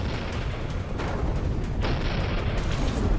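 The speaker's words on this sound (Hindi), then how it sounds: "धमाके ही धमाके सुनाई पड़ते हैं" Continuous rumbling booms and blasts from Israeli strikes in northeastern Tehran, Iran, roll over one another, dense and heavy, like distant explosions with no pauses between them.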